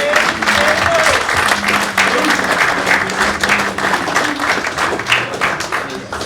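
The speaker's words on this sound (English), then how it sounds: "so general round of applause for Luke." Steady applause from an audience at a rugby club end-of-season awards night, dense clapping filling the room throughout with faint voices mixed underneath.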